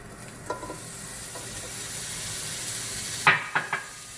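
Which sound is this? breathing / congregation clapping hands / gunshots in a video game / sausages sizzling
sausages sizzling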